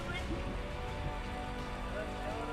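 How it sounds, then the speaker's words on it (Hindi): Heavy rain pouring steadily during a downpour in Tonk district, Rajasthan, with rivers and drains overflowing; a dense, continuous hiss and patter with no break across the stretch. "टोंक जिले में भी भारी बारिश के कारण नदी और नाले उफान पर हैं"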